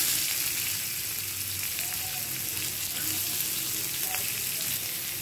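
Onions sizzle steadily in hot oil with asafoetida and spices for an aloo chole curry, a dense, even frying hiss that runs on its own, close by, without pauses.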